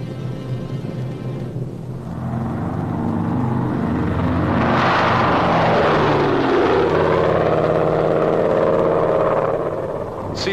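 C-47 transport aircraft propeller engines roar during World War II operations at emergency airstrips in 1944-1945 China, a droning engine sound that swells louder toward the middle and holds.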